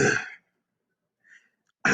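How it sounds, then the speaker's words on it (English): A short throaty rasp opens the clip, then a near-silent pause with a faint murmur, before another burst of voice cuts in at the end. "I'm clearing my throat for you."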